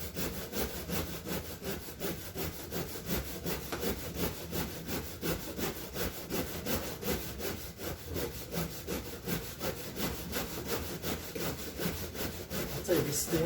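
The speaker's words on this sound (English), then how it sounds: "the Stanley saw is a really good saw" A Stanley handsaw cuts through big tree limbs in even, repeated push-pull strokes, each rasp of the teeth in the wood sounding close and regular, with a brief faint voice near the end.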